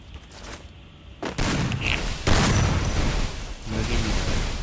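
Gunfire and booms in a mobile shooting game during a one-on-one match, a series of loud blasts and sustained rumbling bursts over about five seconds, with no voices.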